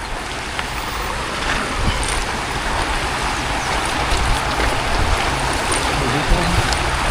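Water tumbling over rocks in a stream during a river fishing outing, a steady close rushing wash that fills the whole clip without a break.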